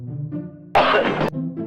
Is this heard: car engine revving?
no